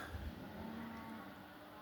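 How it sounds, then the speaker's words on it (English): Cattle being driven down a small-town street in Southern Alberta low with a drawn-out moo, fairly faint and distant, against open outdoor ambience without speech. "They hear the cows being driven down the street."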